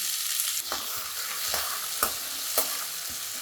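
Tomatoes go into small onions frying in a pan for pirandai (adamant creeper) chutney, giving a steady sizzle broken by several sharp stirring scrapes, with no talk.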